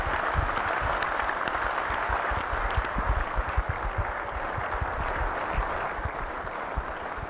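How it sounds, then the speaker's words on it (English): An auditorium crowd at a tech keynote applauds as Intel CEO Paul Otellini walks on stage, sustained clapping with distinct individual claps standing out, held at a steady moderate level throughout. "I'd like to give him a round of applause."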